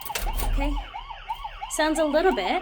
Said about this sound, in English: I'm going to open it because I want you to hear what the alarm sounds like.